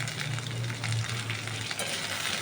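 Tomato pieces fry alongside potatoes in a pan for a shop-style potato curry, giving a steady, close, continuous sizzle with no pauses and no talking.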